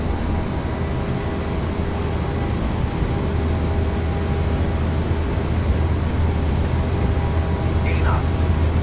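Jet engines of a PMDG 737-800 in the MSFS2024 flight simulator run at takeoff power, a loud, steady low roar filling the cabin, with a faint cockpit voice briefly underneath.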